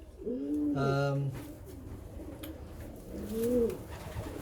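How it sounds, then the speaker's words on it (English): A racing pigeon gives a pair of low, throaty coos close by, the second after a short pause, with soft background noise. "this is the pigeon that Karen mentioned."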